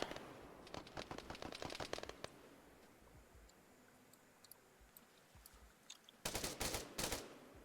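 Gunfire in the military shooter Arma 3: a quick string of distant rifle shots at the start, a quiet gap with faint scattered pops, then a loud close burst of rapid fire near the end.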